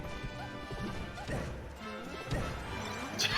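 Down smash attacks in a Super Smash Bros doubles match in an online tournament land as repeated sharp thwacks and crashes over busy game music and effects.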